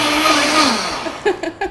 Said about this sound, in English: the Vitamix, the longer you leave it on, the warmer it's going to get because it spins so fast